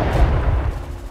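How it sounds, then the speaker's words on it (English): A landmine blows up after being shot in the S.T.A.L.K.E.R. video game, a single loud, low, rumbling boom that rolls on briefly with no talking over it. "let's just shoot this mine to get rid of it here"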